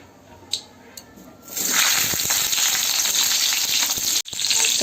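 Moringa drumsticks drop into hot oil after fried potatoes come out: a few quiet taps, then a sudden loud, bubbling sizzle swells and holds close up, briefly cut off near the end before resuming.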